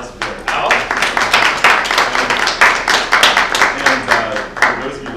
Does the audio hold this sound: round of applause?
yes